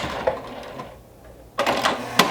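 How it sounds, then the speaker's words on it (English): A sewing machine stitches a large minky blanket in short bursts, a fast mechanical rattle up close with a brief pause in the middle. "So we're going to stitch normally to that 6-inch line, where we're going to back stitch"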